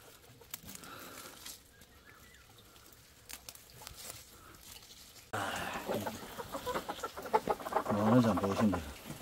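Hens in a small weekend backyard coop cluck softly and sparsely at first, then grow louder and busier in the second half with overlapping clucks and calls close by.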